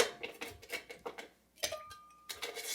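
Ice cubes drop into a mixing glass in a quick run of hard clinks and rattles, then a pause and a few more knocks, fairly quiet and close.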